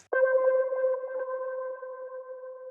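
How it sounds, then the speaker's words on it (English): One clean, sustained guitar tone from a one-shot sample is struck once and rings steadily with a slight wobble, gradually softening over a few seconds. "Another guitar one shot."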